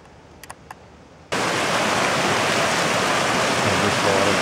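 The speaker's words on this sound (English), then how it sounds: "And this waterfall." On a trip to Venable Lakes, after a quiet second, a loud, steady roar of rushing water from a waterfall cuts in abruptly and continues unbroken, close and powerful.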